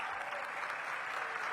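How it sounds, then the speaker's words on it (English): A luncheon audience applauds a congresswoman at a mayor's civic event: continuous, dense clapping from a roomful of people, moderately distant and even in level, briefly joined by faint crowd murmur. "Give her a big round of applause."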